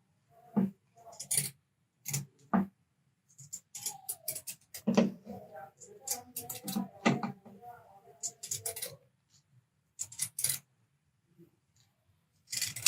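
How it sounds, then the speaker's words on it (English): Scissors cut through heavy fleece hoodie fabric along the front neckline in a close, irregular series of crisp snips and crunches, with short pauses between cuts. "now we are going to cut the front neckline"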